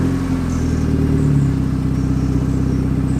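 A modified Nissan Patrol's engine idles and runs with a steady, deep, even rumble close by, holding constant in level with a slight rise partway through and no talk.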